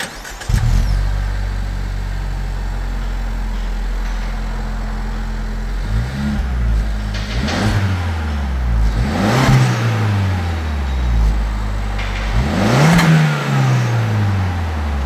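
A Suzuki ZC33S car engine with an aftermarket rear-section muffler fires up and idles with a deep, steady rumble, then gets three sharp revs that rise and fall back, loud and close.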